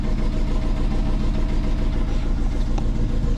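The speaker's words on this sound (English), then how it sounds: "Pretty low idle for a cold start." A twin-turbo Subaru engine idles low and rough just after a cold start, a loud, close, steadily pulsing rumble with a faint click near the end.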